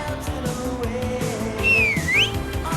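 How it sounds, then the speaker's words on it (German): A single sliding two-tone whistle, like a signal from a friend down on the street far below, cuts clearly over a quiet music bed in an audio drama. "Bis mich ein Pfiff von meinem besten Freund daraus geweckt hatte."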